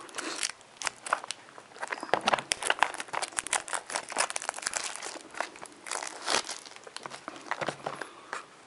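Shrink wrap is torn and peeled off a Magi-Nation Dream's End starter deck box, giving close, busy crinkling and crackling that rises and falls for several seconds, with no talk.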